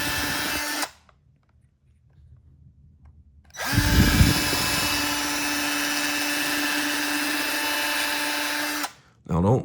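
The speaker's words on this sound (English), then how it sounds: "I'm going to take the drill, and I'm going to just try to make the hole just slightly larger" A power drill whirs loudly for several seconds after a short buzz and a pause, enlarging a hole in a shoe, then starts again briefly at the end.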